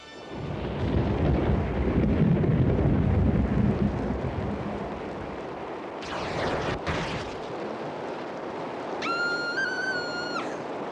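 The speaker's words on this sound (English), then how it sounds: "The thunder clouds built up overhead. The children sheltered in their tents. Then the storm broke." A deep rumble of thunder rolls loudly and then fades, followed by a crackling burst and softer rumbling, with a high tonal sound near the end.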